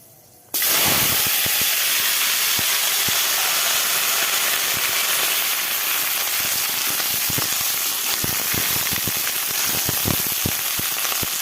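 Vegetables drop into a hot pan of oil with nigella seeds and dried chillies, bursting into loud, close, continuous sizzling and hissing with scattered crackling pops.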